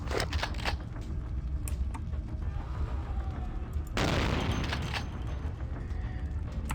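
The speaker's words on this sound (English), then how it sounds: "Let's get the shotgun out." A shotgun blast in Vampire: The Masquerade – Bloodlines: a sudden loud boom with a wide noisy burst that fades over a couple of seconds, over a dense, constant rumble of game background sound.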